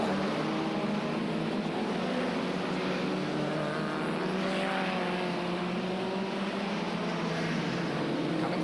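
Superstox race cars roar around a speedway track, a steady dense engine drone with overlapping revving tones sustained throughout, loud and continuous with no voices.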